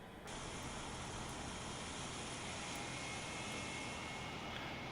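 A DC-9 jet engine spools up in a flight simulator game, a steady broadband rush with a rising whine that holds strong after a quick onset, alone without voices.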